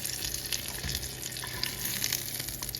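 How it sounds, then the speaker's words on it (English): Sausages frying in oil in a pan, a steady close sizzle and crackle that runs on without a break, with no talking. "I just cooked sausages in it and these sausages are done."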